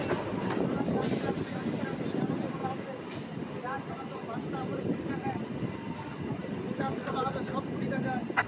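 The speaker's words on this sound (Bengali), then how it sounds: "আমাদের ট্রেন এখন বর্তমানে প্রবেশ করেছে মালিয়া হল্ট" A local train on the Howrah–Tarakeswar line pulls into Maliya Halt station, its steady rumble and rolling clatter filling the whole stretch, loud and close, with a few sharper squeals and clanks of the carriages near the end.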